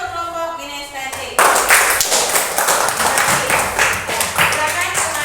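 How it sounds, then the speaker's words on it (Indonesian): Students in a classroom clapping for a group, a burst of lively applause after a teacher's brief spoken lead-in. "Tepuk tangan untuk kelompok kinestetik."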